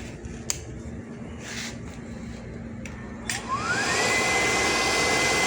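A gas burner being repaired powers on, its motor whine rising in pitch over about a second, then holding as a loud, even drone after a few faint ticks and a low hum.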